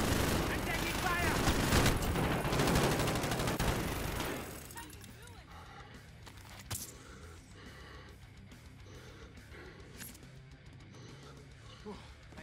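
Dense rapid gunfire from a first-person shooter video game fills the first few seconds, then drops to sparse distant shots and thuds, with a voice speaking over the action.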